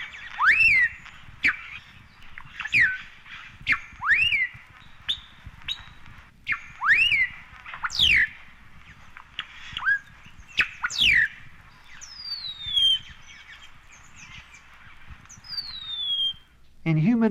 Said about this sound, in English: Another familiar voice in eastern Mexico is that of the melodious blackbird.